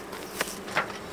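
A dense, steady buzz of many bees swarming over an open beehive during an inspection, a close, continuous drone with a few louder passes from individual insects.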